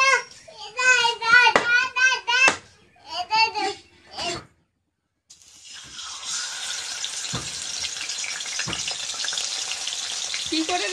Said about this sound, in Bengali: তো এদিকে মাছ ভাজাটা হচ্ছে